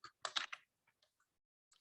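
Quiet keystrokes on a computer keyboard, a quick burst of several clicks followed by a few sparse, isolated taps, with no talking.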